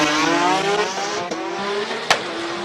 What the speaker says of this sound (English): You're watching the 2JZ powered Subaru take on the chicane.